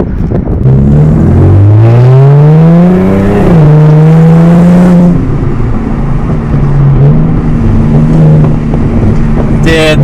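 An Audi S4 engine revs up loudly and close, its pitch climbing then holding at a rumbling idle before another brief rise.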